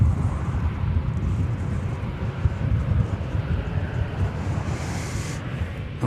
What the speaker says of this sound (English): let me make sure I'm not going to miss this Ukrainian plane here